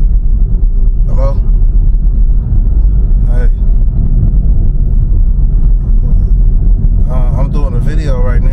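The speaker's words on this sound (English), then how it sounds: "I'm doing a video right now, and I'm driving" Car driving on a road with steady low engine and tyre rumble throughout, loud and close, with brief voice fragments and a burst of talk near the end.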